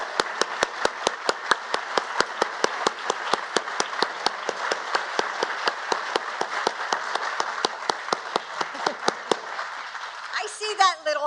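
A crowd at a White House Christmas decor unveiling applauds National Guard families, steady clapping that carries on for several seconds before a voice comes in at the end.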